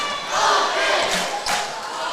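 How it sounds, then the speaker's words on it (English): Packed high school gym crowd at a boys basketball district championship between Powell County and Estill County, a loud, continuous cheer that swells and dips, with a couple of sharp thumps. "Good crowd."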